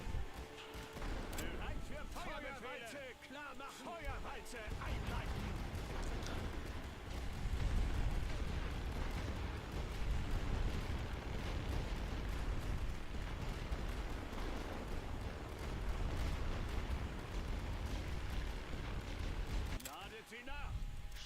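Artillery barrage in The Great War: Western Front, a World War I strategy game: a continuous dense roar of overlapping blasts and rumble lasting throughout, loud and sustained, with someone talking over it.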